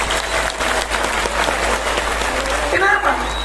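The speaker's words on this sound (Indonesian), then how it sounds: "Tepuk tangan untuk NU." A live audience at an outdoor religious talk in Legoksari, Indonesia breaks into dense, sustained applause and crowd noise, loud and close throughout, with voices mixed into the clapping.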